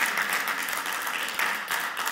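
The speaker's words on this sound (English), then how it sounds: "You guys clap, but you know that's true." Audience clapping during an evening talk by Junot Díaz at a university, a steady broadband patter of many hands lasting a couple of seconds with slight swells, heard from within the room.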